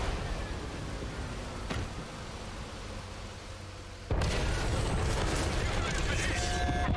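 Tank cannon fire in World of Tanks console battle, a dense game soundscape of booms and mechanical noise that jumps sharply louder partway through, with a voice talking over it.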